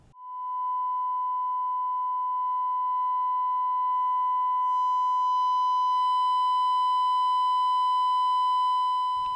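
A steady pure test tone runs through a vacuum tube amplifier for about nine seconds, unbroken and even, with faint upper overtones gradually creeping in as the distortion rises.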